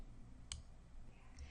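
A computer mouse gives two faint, sharp clicks about a second apart in a quiet room.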